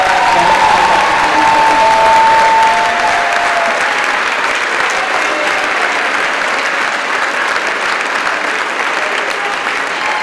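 A high school spring concert crowd applauds the symphonic band with heavy, sustained clapping and a few cheers early on, easing slightly in level over the ten seconds but never stopping.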